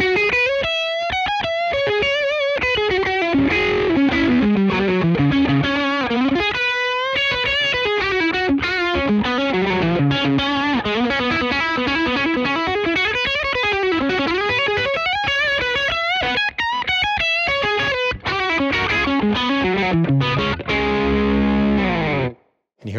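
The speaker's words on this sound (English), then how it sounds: "I'm gonna crank the gain up and turn up a bunch of compression" An electric guitar runs through a Fender Compugilist compressor and distortion pedal set to high gain with heavy compression, playing a thick, sustained single-note line with no talking, closing on a long ringing note that cuts off abruptly.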